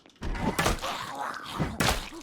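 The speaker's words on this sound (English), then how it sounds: "I heard one banging on a metal door" Zombie banging on a metal door in the Project Zomboid video game: a few heavy, dull thuds, the first two close together near the start and another later, with a low groan-like rumble between them.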